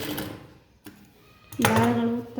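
A sewing machine stitches the inner fold of a semi high neck blouse. A short quiet pause comes first, then a close, loud, steady whir as the machine starts running near the end.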